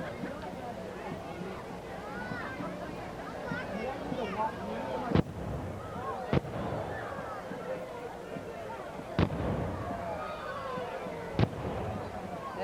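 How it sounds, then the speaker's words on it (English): The Newport Artillery Company fires a ceremonial salute at the start of a 50th anniversary parade, with four sharp cannon reports spaced a second or more apart. They sound under a steady stream of talk over a busy crowd. "the Newport Artillery Company is giving their salute as they proudly step off at the top of the parade"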